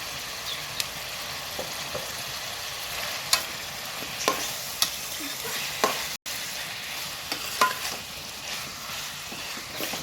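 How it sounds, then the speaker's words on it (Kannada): Chicken with spinach green masala fries in oil, a steady soft sizzle broken by occasional small pops and crackles, close and continuous with no voices. "ಇದು ಎಣ್ಣೆಯಲ್ಲಿ ಒಂದು 5 ನಿಮಿಷ ಫ್ರೈ ಆಗಲಿ"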